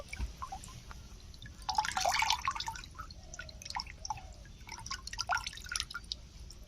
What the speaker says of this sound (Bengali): ঝুড়ি থেকে এরকম ভাবে চেপে চেপে জলটা বের করে নেব।